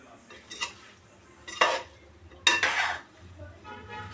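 Homemade mango pickle with chilli is stirred and mixed with a utensil in a metal vessel, making three scraping, clattering bursts of cutlery against the pot, each growing stronger, with a soft rumble after.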